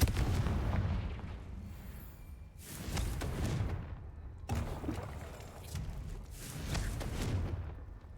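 A Confringo fire spell explodes in the Hogwarts Legacy video game, heard as two booming blasts in a row, each a loud low thump that rolls and fades, over a steady rumbling battle bed.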